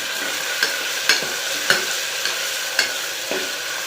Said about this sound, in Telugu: టమాటో వేసేద్దాం ఇప్పుడు దీన్ని కూడా బాగా వేయించుకుందాం ముక్కలు మెత్తబడేంత వరకు